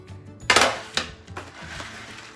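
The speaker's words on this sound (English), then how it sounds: "So I'm gonna put my chopping board" A chopping board set down on a kitchen counter while making chicken quesadillas, giving a sharp knock followed by a second, lighter clack and some quieter handling noise.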